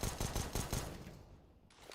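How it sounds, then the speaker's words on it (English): Rapid bursts of gunfire from a tactical shooter match play in a quick rhythmic volley for about a second, then taper off into quieter game ambience. "you're just shooting for the sake of shooting"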